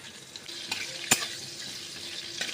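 White cumin seeds and a cardamom pod sizzle softly in hot oil, a low steady crackle broken by one sharp metallic clink of a utensil midway.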